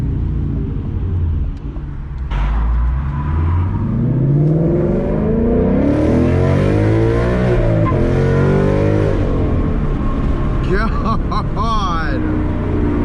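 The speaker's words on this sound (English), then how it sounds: "Alright guys, we're gonna throw it in the track now and do a pull and see what that sounds like." A modified Ford Mustang GT makes a hard full-throttle pull, its engine note climbing steadily through the gears with brief dips at the shifts and a loud, rising roar. Voices can be heard under the engine.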